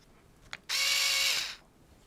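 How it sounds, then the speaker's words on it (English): A Black + Decker cordless screwdriver, with its motor replaced after disassembly, gives a click and then a steady high whir for about a second before it stops, near and clear, with no talking. "So the motor is working."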